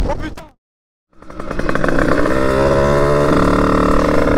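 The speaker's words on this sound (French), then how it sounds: "on va laisser un peu la moto chauffer" A small 100 cc motorcycle engine warming up, a short rev, then a second of silence before it restarts and settles into a loud, steady, rattling idle close to the microphone.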